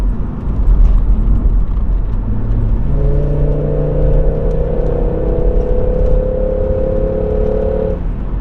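Volvo V70 T5 wagon accelerating up a hill: a low rumbling idle gives way to a rising, whirring engine note that climbs steadily and stays close and loud for several seconds.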